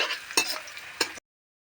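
A soft sizzle of frying with two quick scraping stirs, brief and close, ending in sudden silence.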